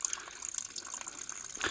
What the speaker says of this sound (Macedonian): Овде чрчори нешто.